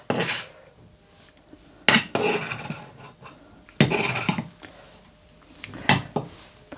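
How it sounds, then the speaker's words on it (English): Ginger, garlic and chili mixture scraped from a container into a bowl of yogurt, a series of sharp clinks and scraping clatters of metal utensil against dishware separated by quieter gaps, close up without talking. "take our mixture of ginger and garlic and chilies and just add that straight into the yogurt that we've got"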